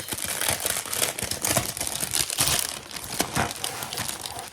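Plastic zip bags of diamond painting beads handled and crinkled, a quick run of dry rustling and crackling bursts, close and continuous with no speech.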